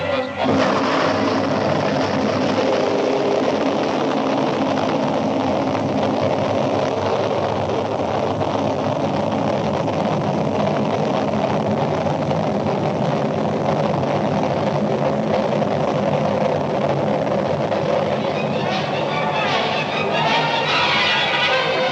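A 1960s rocket carrying the Telstar communications satellite lifts off with a loud, continuous, broadband engine roar that holds steady for over twenty seconds with no break.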